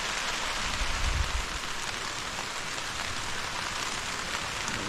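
Steady rain patters continuously on a surface, a dense even hiss with a brief low rumble early on.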